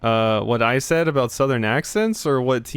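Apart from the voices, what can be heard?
No distinct noise like a dog, phone or traffic.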